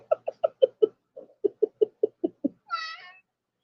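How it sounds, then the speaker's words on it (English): A cat sitting on a desk meows in a quick run of about ten short, evenly spaced chirping calls, close and clear, ending with one longer, drawn-out meow. "The cat is sitting on my desk looking at the dog."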